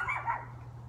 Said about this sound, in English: Stop barking. There's nobody out there. You're just barking at nothing.